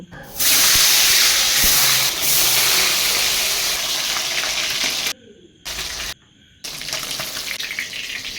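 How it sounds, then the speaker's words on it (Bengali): Loud, steady sizzling of fish frying in hot oil in a kadai, broad hissing that runs continuously with a few brief dropouts near the end. "এবার এক এক করে আমি মাছগুলোকে ভেজে নেব"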